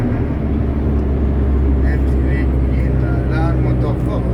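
A heavy Mercedes vehicle engine runs steadily on a road in Gabon, producing a loud, continuous low rumble that stays constant throughout, with a voice faintly audible underneath.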